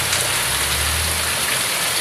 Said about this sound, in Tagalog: napakalakas ng ulan sa amin